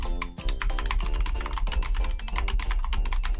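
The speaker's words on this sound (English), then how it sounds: "At this point, I'm just typing whatever." Steady, continuous typing on a new backlit computer keyboard, dense rapid keystrokes clattering up close and loud throughout with no talking.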